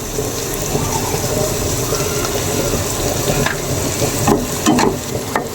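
Salted onions frying on a strong gas flame in a pan for biryani, a steady loud sizzle with stirring scrapes and a few sharper clatters toward the end, no speech.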